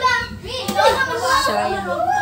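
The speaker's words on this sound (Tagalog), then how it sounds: "Ang ingay ng mga bata." Noisy children playing and chattering at a beach resort, several young voices overlapping close by with a brief sharp clap or bang early on.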